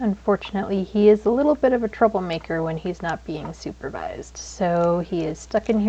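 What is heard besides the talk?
No distinct noise like a dog, phone or traffic.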